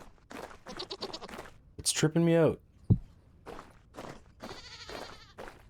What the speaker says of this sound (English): I hear baby goats.